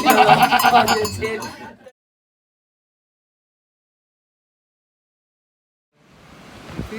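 A woman imitates a goat with a loud, wavering bleat, followed by silence and then faint wind-like noise.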